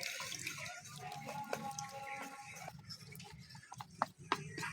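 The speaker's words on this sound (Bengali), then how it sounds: "অল্প অল্প জল দিয়ে একটা গোলা বানিয়ে নেবো" Water poured little by little into semolina and stirred into a batter for cauliflower patishapta, giving wet sloshing and mixing sounds with a few sharper clinks near the end, close by and with no talking.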